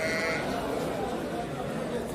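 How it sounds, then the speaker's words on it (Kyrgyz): Young male lambs at an Osh livestock market bleating among a dense crowd, their calls faint and mixed into continuous chatter and background noise. "Мында козулар чыгып калыптыр го."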